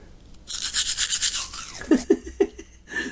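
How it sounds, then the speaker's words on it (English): Toothbrush scrubbing teeth up close, a burst of rapid rhythmic bristle strokes followed by a few slower, heavier brushing strokes. "Brushing teeth sample."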